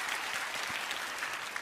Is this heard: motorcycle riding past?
no